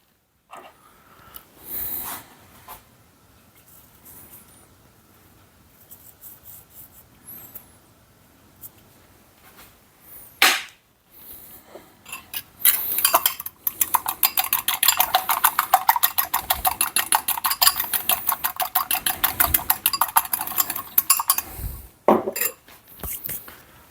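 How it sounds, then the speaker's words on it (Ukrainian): An egg is whisked in a bowl for a spring salad, with quiet clinks at first, then a fast, steady rattle of metal against the bowl for several seconds, stopping and starting again briefly at the end. "Збиваю яйце"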